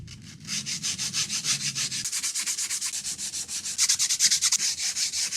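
A second-hand hand saw blade is sanded by hand with Smurdex P180 abrasive and WD-40, giving close, steady back-and-forth rasping strokes, about four or five a second, in a regular rhythm.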